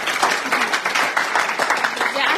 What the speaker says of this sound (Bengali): জন্য একটা হাততালি আমরা দিব